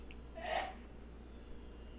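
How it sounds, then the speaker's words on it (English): A woman sneezes once, a single short burst a little way off from the mic, heard alone against a quiet room hum during a Vikings–Packers football game broadcast. "Bless you. That's my wife sneezes."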